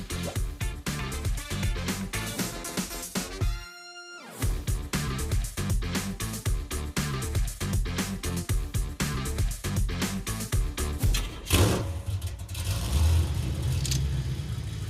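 A Chevrolet Impala with newly installed fuel injection drives off with a loud, rough engine that revs and surges, jerky bursts of noise broken by a brief dropout, close and harsh.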